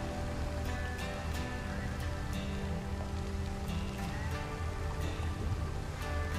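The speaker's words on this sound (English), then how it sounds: "it's rainy out" Steady rain hisses and patters without pause in the video game Over the Hill, an even wash of drops by a large lake, moderately loud and continuous throughout.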